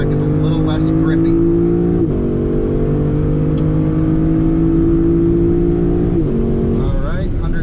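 Lexus LC500 convertible accelerating hard at wide open throttle on a track, its engine note climbing steadily through the gears with brief drops at the shifts, loud and close, with slight tire spin.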